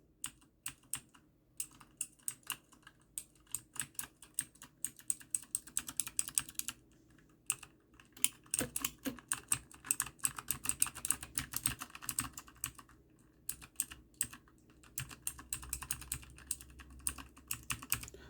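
Rapid typing on a Newmen GM610 wireless gaming keyboard in bursts of crisp clicks, close and fairly quiet, with short pauses between runs and no talking.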